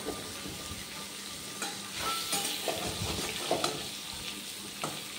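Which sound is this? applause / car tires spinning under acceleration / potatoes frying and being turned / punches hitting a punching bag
potatoes frying and being turned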